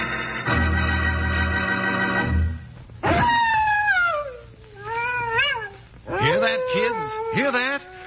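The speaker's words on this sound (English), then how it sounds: "that's the howl of a coyote" Howling wails of a coyote as an old-time western radio drama sound effect, several rising and falling cries with a strong tonal drone in the first seconds, loud and close, with no talk over them.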